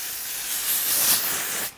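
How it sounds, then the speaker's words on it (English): A drugstore makeup setting spray gives a fine, dry mist in one steady hiss lasting nearly two seconds, close and fairly loud, before it cuts off abruptly. "It's a little bit more of a dry spray,"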